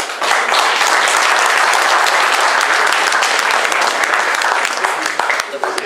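Crowd at an outdoor hare-hunting hound pack competition gives loud, sustained applause, dense continuous clapping close to the microphone.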